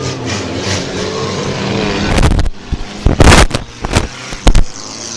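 Race cars at Midvale Speedway, a dirt-and-asphalt short track event, roar past in loud, wind-buffeted bursts, with a sustained engine drone giving way to several sharp, close passes and gusty rumble.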